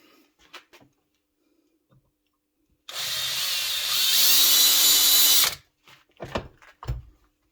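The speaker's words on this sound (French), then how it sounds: "on va percer un trou." A drill bores a hole into an aluminium knife handle, a loud steady whine of about three seconds rising slightly in pitch, framed by faint clicks and handling knocks before and after.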